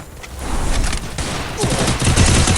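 UMP gunfire in the Free Fire mobile game, a loud, dense burst of rapid automatic shots mixed with game effects, close and continuous.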